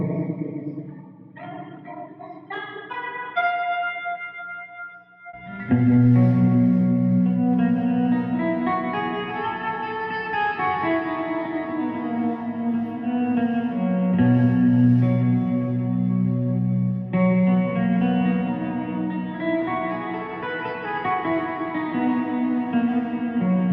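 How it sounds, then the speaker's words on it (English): Ring modulator effect from a Dr. Scientist BitQuest multi-effect pedal, with reverb behind it. A sustained, metallic, warbling tone swells in after a few sparse notes and runs continuously, loud and spacious, with a long reverb tail. "gradually increase that ring mod to get a little bit more craziness out of it."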